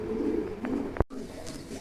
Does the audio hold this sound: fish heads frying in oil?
no